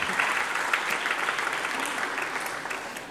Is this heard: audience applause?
yes